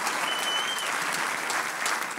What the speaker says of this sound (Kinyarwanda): Mukomere Imana amashyi